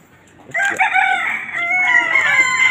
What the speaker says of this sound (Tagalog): At may manok pa.